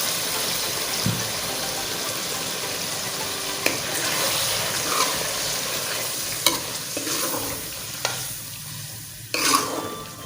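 Steady loud sizzling of onion and tomato masala frying in a pot as yogurt goes in, with scattered stirring clinks and scrapes over the continuous hiss, no talking.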